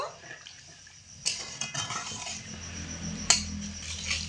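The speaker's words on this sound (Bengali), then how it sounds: "হালকা একটু নাড়াচাড়া করে দেব" Aloo posto being stirred lightly in a pan after water has been added: soft clinks and scrapes of a utensil against the pan, with two sharper metallic knocks, close and moderately quiet.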